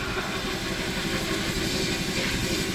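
A large 120-gallon air compressor running for sandblasting chugs steadily in a fast, even mechanical rhythm, loud and close, with a hissing wash of air over it and no voices.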